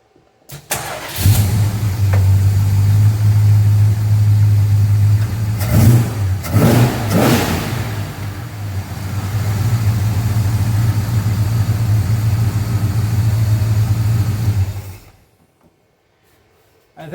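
An older car engine, just converted from electronic ignition to points, cranks, catches with a couple of revs and settles into a steady idle for several seconds before shutting off.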